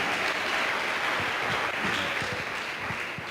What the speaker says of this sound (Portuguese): dê um aplauso ao nome do Senhor